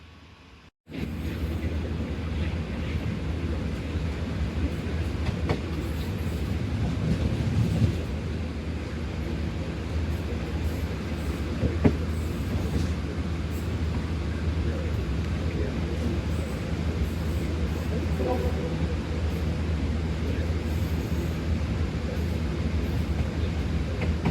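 Steady rumble of the Karakoram Express running at speed along the main line toward Khanewal, a continuous broad roar of wheels on rails and rushing air heard from inside the train, starting abruptly and holding constant throughout.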